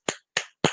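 Three separate hand claps, sharp and close, with short even pauses between them. No other sound under them.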